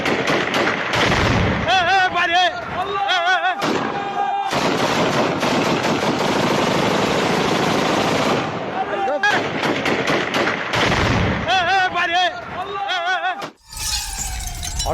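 Gunfire during clashes between Druze and Bedouin fighters in Sweida, Syria, with rapid automatic bursts and scattered single shots, loud and close, in repeated volleys broken by brief pauses, with some shouting mixed in.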